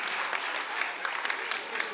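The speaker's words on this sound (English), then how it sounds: "You were right to clap at that." Audience applause at a comedy show, a steady dense wash of clapping from a crowd filling the whole moment at even loudness, with no voices over it.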